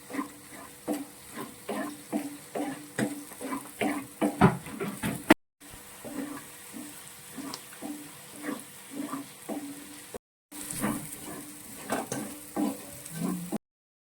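Clam meat with curry leaves frying in a pan, soft crackling sizzle with a rhythmic stirring scrape every half second or so, close and fairly quiet, broken by two short silent gaps.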